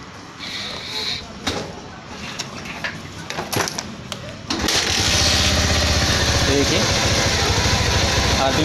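A Bajaj Pulsar motorcycle engine is started after some handling clatter, then settles into a steady, loud idle close by for the remaining several seconds.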